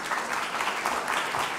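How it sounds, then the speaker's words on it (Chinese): An audience at a media awards forum claps steadily to welcome a speaker to the stage, a dense, continuous applause filling the whole moment. "掌声欢迎"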